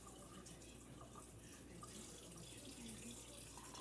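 Steady running water from a tap, a continuous splashing hiss into a sink, close by with no talking.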